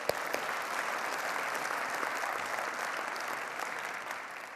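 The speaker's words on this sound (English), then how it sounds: "Give him a round of applause" Steady applause from a keynote audience fills the room for the full stretch, dense even clapping at a moderate level that tapers off slightly toward the end.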